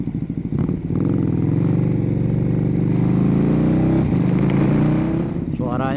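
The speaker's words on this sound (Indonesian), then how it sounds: "Suara V-twin tuh emang." A Ducati Superduke 1290 R V-twin motorcycle engine drones steadily and loudly, a raw pulsing note that shifts pitch near the end as the bike is ridden.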